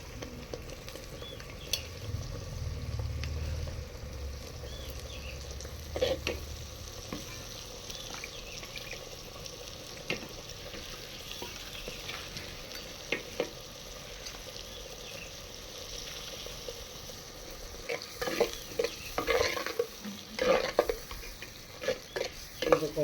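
Ground onion-tomato paste sautéing in a pan for Tamil-style fish curry, a steady soft sizzle with occasional stirring scrapes and clicks, close and moderately quiet, no talking.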